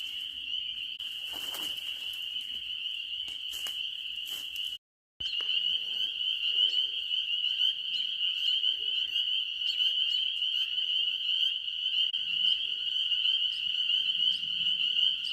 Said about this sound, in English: The frogs are definitely loud.